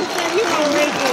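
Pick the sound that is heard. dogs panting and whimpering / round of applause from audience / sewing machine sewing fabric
round of applause from audience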